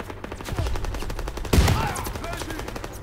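Shotgun blasts in the World War II shooter Call of Duty WWII, with sharp gunfire cracks and one loud, heavy boom standing out midway amid ongoing game noise.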